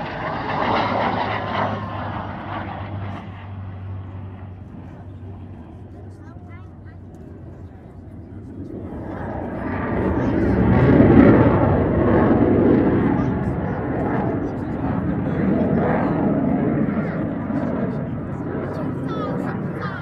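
A Eurofighter Typhoon and a Spitfire of the Battle of Britain Memorial Flight pass over an air show. Engine rumble fades, then builds to a loud roaring swell that lingers over crowd noise, with an announcer talking throughout.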